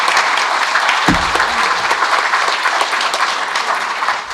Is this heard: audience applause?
yes